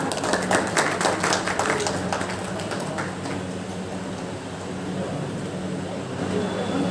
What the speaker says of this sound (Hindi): जोरदार तालियों से स्वागत कीजिएगा। तालियां बजती रहनी चाहिए, जोरदार तालियां।